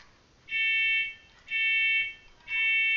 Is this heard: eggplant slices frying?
no